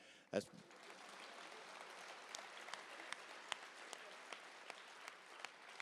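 An audience claps at a talk on the journey from the Freedom Riders to Ferguson, beginning with a sharp burst and settling into moderately faint, scattered claps that continue steadily.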